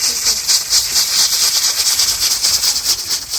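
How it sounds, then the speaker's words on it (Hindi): A pressure cooker on a village kitchen stove vents steam as its top weight spins, producing a loud, steady, close hiss with a fluttering pulse and faint rattle throughout. "कैसे इसका ऊपर वाला वो घूम रहा है कुकर का।"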